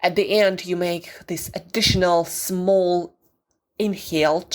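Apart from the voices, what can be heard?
No everyday noise stands out behind the speech.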